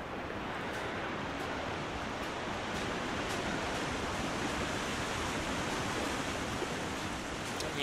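A waterfall in The Long Dark video game, in the Pleasant Valley area, pours as a steady, dense broadband roar that stays constant and loud from start to finish, with no voices.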